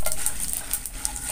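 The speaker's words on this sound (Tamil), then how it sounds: "எண்ணெய் காஞ்சிச்சு கடுகு போட்டுக்கிறோம். வெள்ளை உளுந்தையும் போட்டுக்கிறோம்." Mustard seeds and white urad dal frying in hot oil for wheat paniyaram, a steady close sizzle with bright crackles and small pops, plus light stirring scrapes, and no voices.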